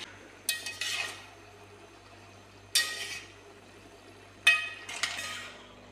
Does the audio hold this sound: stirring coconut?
yes